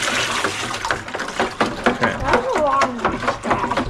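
Brine mix for curing moose meat is poured into a container, a splashing, gurgling pour with bubbly liquid sounds over a few seconds, with someone talking nearby.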